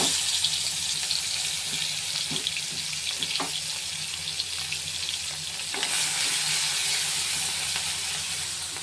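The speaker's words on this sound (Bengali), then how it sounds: "এবার এই মাছগুলোকেই আমি আলাদা কড়াতে একটু ভেজে নিচ্ছি।" Prawns frying in a separate pan give a steady close sizzle with bright crackle, joined by a few scattered clinks and a brief swell of hissing near the end, no voices.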